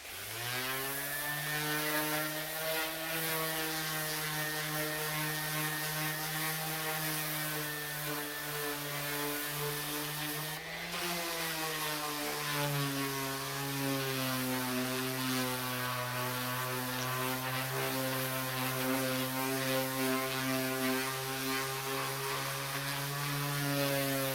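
An old Black & Decker sander runs steadily, a loud sustained motor whine with a strong buzzing hum that dips briefly midway and then continues evenly at close range.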